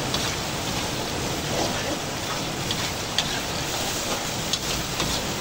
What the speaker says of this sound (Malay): Ni tiba-tiba terus hujan.